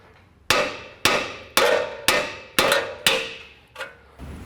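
A hammer strikes a tie rod end on the steering knuckle of a 2019-or-later Chevy/GMC 1500 truck: six loud, evenly spaced metallic blows with ringing decay, then a lighter seventh tap.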